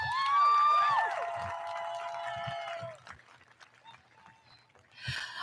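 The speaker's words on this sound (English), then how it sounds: "So give them a big round of applause." A crowd at a high school graduation ceremony cheers for the graduates with high whoops and whistles over a soft bed of clapping, fading to scattered noise before a brief burst near the end.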